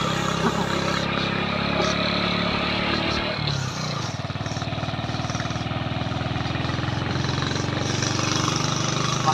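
A Primera's engine runs loudly and steadily up close, a constant rough drone that shifts pitch and settles into a pulsing throb partway through.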